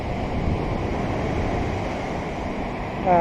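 Steady roar of sea surf washing and splashing up onto a coastal road between Patong and Kamala, Phuket, just after rain, loud and continuous, with a rush of wind over it and a brief surge at the end.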